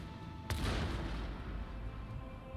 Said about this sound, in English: Right, melt torpedoes, detonate